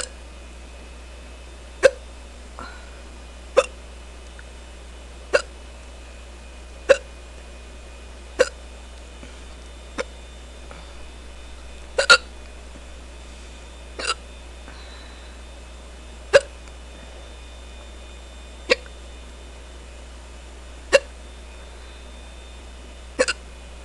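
Repeated hiccups from a young woman after sipping a drink, about a dozen sharp short bursts spaced irregularly one to three seconds apart over a faint steady hum, with no talking.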